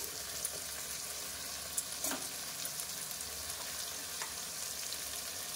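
Capsicum fries in a pan with a soft, steady sizzle. Occasional faint stirring clicks and light spatters sound against it, with no one speaking.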